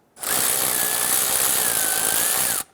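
A power tool with a 10mm socket spins off a mirror mounting nut on a 2009-2015 Honda Pilot, one steady high whine lasting about two and a half seconds that starts and stops abruptly, loud and close.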